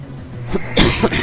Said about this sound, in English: Sorry for coughing right into the mic